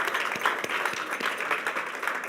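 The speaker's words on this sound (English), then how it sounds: "Big round of applause." Audience applause fills an awards ceremony hall for a radio industry event, a dense sustained wash of many hands clapping at steady volume throughout, with no talk over it.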